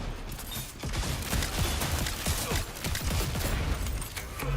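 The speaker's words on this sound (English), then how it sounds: "Exploding knife." In the Concord video game, an exploding knife sets off a rapid run of loud, crackling detonations that rattle together like a fusillade, with mechanical clatter in between.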